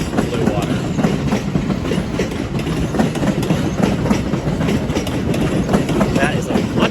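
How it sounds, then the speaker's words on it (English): A long train rolls past close by with a continuous rumble and rhythmic clickety-clack of wheels over rail joints, sustained throughout. "That is a much longer train than I thought it was."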